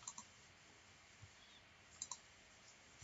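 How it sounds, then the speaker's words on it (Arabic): A few faint, sharp computer mouse clicks, including a quick double click, against a quiet background with no talking. "ممكن نعمل رايت كليك كده"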